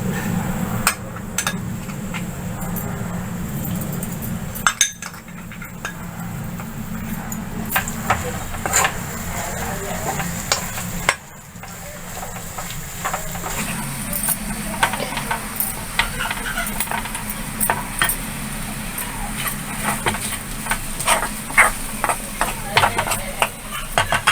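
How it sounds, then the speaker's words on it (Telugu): Chana dal paste frying in hot oil in a pan, a steady close sizzle with scraping and tapping from stirring throughout, without any talk. "నూనె వేడెక్కాక నూనె పెట్టుకున్న ఈ శనగపప్పు ముద్దని వేసేయాలి"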